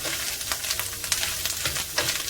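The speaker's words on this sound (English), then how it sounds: "Okay, so I'm stirring this in." Meatless ground taco filling sizzles in a hot pan as a utensil stirs through it, steady frying crackle with soft scraping strokes recurring every half second or so, close and fairly loud, no talking.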